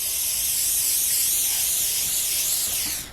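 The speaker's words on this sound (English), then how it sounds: "I'm gonna spray some olive oil spray." Olive oil spray hisses steadily from a can onto chickpeas in a bowl, one continuous close spray lasting a few seconds and trailing off at the end.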